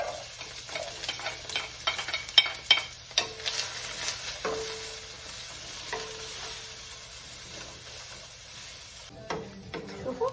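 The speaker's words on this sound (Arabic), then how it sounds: "خلينا الزيت بالطاوه، راح نخلي البصل" Onions frying in oil in a frying pan for a mushroom sauce, with steady sizzling broken by clinks and scrapes of stirring, a cluster of louder strokes early on and another near the end.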